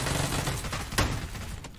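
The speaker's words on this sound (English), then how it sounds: "I shot him a little." Gunfire in a video game, a short sharp shot standing out near the middle of a dense, steady wash of game noise.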